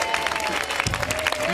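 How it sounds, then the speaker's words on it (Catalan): A crowd in a town square applauds as a procession of small festival giants arrives, the clapping dense and close with scattered cheers and voices mixed in. "Aplaudim, no?"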